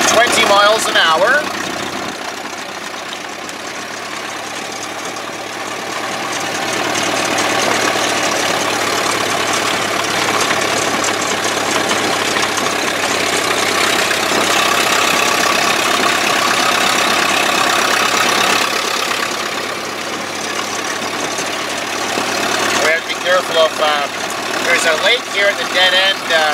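A 1928 Chevrolet AB National engine drones steadily from inside the car while driving at about 20 miles an hour, a continuous mid-pitched hum with some road noise, swelling slightly in the middle; someone talks briefly.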